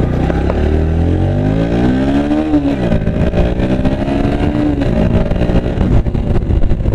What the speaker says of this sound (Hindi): गियर पे लगा के अब हम हो चुकेंगे फुर